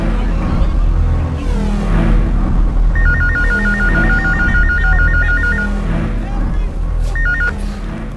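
A mobile phone rings with a loud electronic warbling ringtone in a Pakistani telefilm scene. A sustained burst of about three seconds is followed by a short second burst over background room noise.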